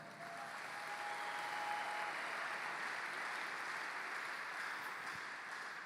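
A church congregation applauds together to acclaim the Lord, giving a dense, steady wash of clapping from a large crowd that holds evenly for several seconds in a reverberant hall.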